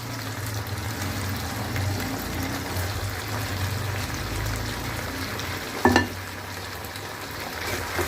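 Fried soybean chunks go into a hot pan for chili soya and sizzle steadily, a continuous close frying hiss with one brief sharp clatter partway through.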